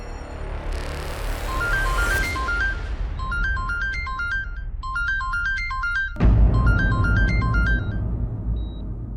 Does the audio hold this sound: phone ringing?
yes